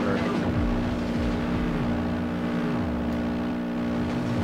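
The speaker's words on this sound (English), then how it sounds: "Dude, this car sounds weird." A car engine in the PS2 racing game Test Drive: Overdrive drones continuously, its pitch sliding up and down as it shifts and revs, loud and steady without a break.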